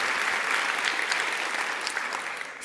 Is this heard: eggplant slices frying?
no